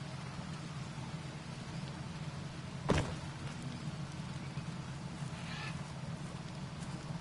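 Steady rain pours through the jungle in the survival game Green Hell, a dense even hiss throughout with one brief sharp crack near the middle.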